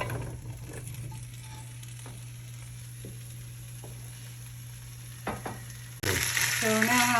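Sweet potatoes, yellow potatoes and carrots sauté in a pan with a steady close sizzle and occasional stirring taps. A low constant hum runs underneath, and a brighter, louder burst of frying rises near the end.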